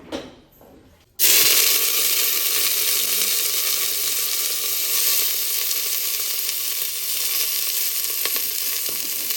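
Ingredients dropped into hot ghee in a home kitchen, bursting into a loud, steady sizzle after a short quiet moment and frying continuously to the end, with occasional light stirring clicks.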